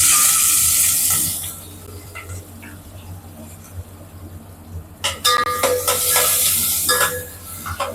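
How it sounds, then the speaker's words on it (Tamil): Onions and dried red chillies hit hot oil in a pan for a drumstick-leaf kuzhambu, giving a loud hissing sizzle at the start that fades into quiet stirring, then flares again in crackling bursts near the end. "அப்புறம் வரமிளகா ரெண்டு வந்து வெங்காயம் போட்டுக்கலாம்"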